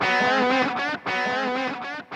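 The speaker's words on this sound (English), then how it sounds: "Single. Let's start with single delay." Electric guitar run through a Kemper profiler's single delay effect, sustained chords repeating in two even swells with echoes trailing into brief gaps, loud and close with no talking.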